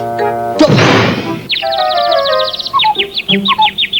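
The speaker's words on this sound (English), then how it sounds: "when I hear the birds tweeting and the cuckoo clock's going off" A loud crash gives way to cartoonish bird tweets, rapid high chirps repeating in quick succession, with cuckoo clock ringing tones mixed in.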